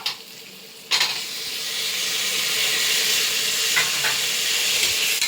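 Onions sizzle and fry steadily in a hot pan for mushroom biryani as chopped tomatoes go in, a sharp burst of hissing at the drop then a loud continuous sizzle with occasional stirring clinks, no talking.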